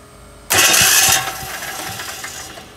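Diesel engine started with a key, a sudden loud cranking burst that catches and settles into a rough, steady idle, close by with no talk.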